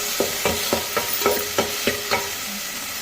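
Onions and tomatoes fry in a pan for a vegetable sambar while being stirred, with about eight rhythmic scraping strokes over a soft sizzle.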